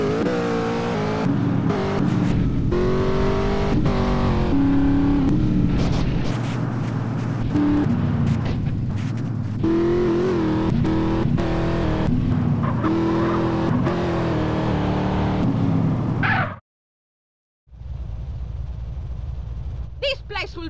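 A car in the mobile version of GTA San Andreas is driven fast, its engine roaring steadily under voices talking and game sound, before a brief silence and a quieter stretch.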